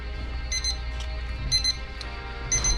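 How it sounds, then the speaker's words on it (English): A long-range cooking thermometer alarm beeps in clusters of quick electronic beeps repeating about once per second, fairly close and clear over a low steady hum. "Now it's going to beep at me when it beats at the right temperature."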